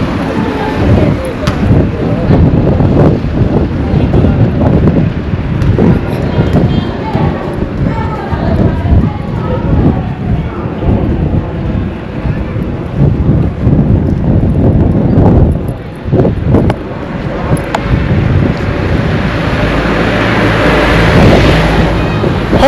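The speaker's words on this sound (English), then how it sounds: "it's somehow windy out here today" Wind gusting outdoors at a road construction site, heavy low rumble battering the microphone throughout while a person talks over it.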